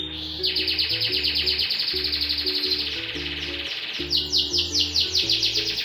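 White-rumped shama chicks chirp loudly and continuously at close range, rapid insistent begging calls in overlapping bursts over a low musical background, no speech.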